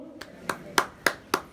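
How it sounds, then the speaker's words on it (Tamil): Five distinct hand claps ring out at a slow, even rhythm, each one sharp and moderately loud, as a church audience at a C.M.S. church tower dedication service gives thanks. "கைத்தட்டி அவங்க நன்றி சொல்லுங்க"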